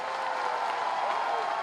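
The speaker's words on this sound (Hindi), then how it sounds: "एक बार जोरदार ताली इनके लिए बजा दीजिए थोड़ा।" A crowd at a BJP political rally in Moradabad claps loudly and steadily, a dense, even wash of applause that holds without a break throughout.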